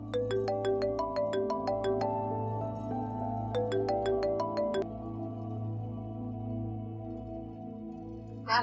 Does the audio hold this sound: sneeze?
no